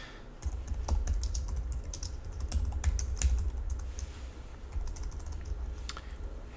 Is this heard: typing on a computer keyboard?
yes